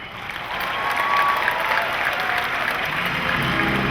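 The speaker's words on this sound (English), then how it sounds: "Nice round of applause for the lovely and talented Abby Cornish." Applause from a large audience at a Comic Con panel for RoboCop, a dense steady roar of clapping that swells and holds without speech.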